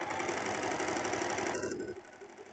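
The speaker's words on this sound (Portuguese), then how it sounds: "Vamos terminar de costurar aqui." Close, steady whirring from a sewing machine finishing a French seam on a summer tank top, running at a fast even pace before slowing and easing off near the end.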